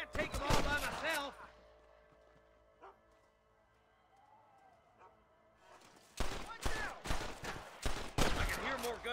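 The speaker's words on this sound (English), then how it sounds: "I can hear more gunshots." Gunfire in the video game Red Dead Redemption on PS5 comes as rapid, sharp volleys of shots at the start. After a quiet stretch with faint background game sounds, more loud bursts follow, mixed with voices.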